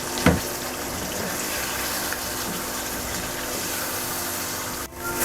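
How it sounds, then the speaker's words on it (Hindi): Half a cup of water is poured onto potatoes cooking in a pan, a loud, steady gushing splash close by that runs for several seconds before stopping abruptly near the end. "इसके अंदर मैं ये आधा कप पानी का डालूँगी ताकि आलू अच्छी तरह गल जाए।"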